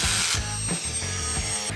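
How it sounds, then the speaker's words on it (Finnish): A Makita cordless hammer drill bores into concrete, with loud close bursts of grinding and rattling broken by brief pauses across a short stretch, without talk. "Makitan uusi poravasara haukkaa kiinni betonien"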